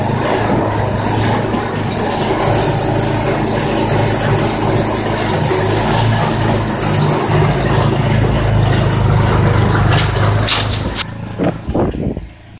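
A pull-start engine on a slush fishing setup runs loud and steady close by, a continuous rough drone with a constant hum, before sputtering and cutting out near the end.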